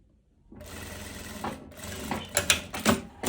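Sewing machine running a seam on the wrong side of a light summer dress, a steady mechanical whir with rapid stitching bursts that grow louder toward the end, no talking.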